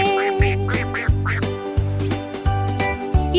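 A cartoon-style duckling quacks in a steady series of short, bright calls, roughly every half second, over a musical backing with a thumping beat; no speech.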